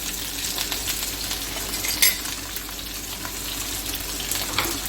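Chopped capsicum with green chillies sizzling in a pan of hot oil, a constant close frying hiss with a faint clink of a utensil against the pan now and then, no voices.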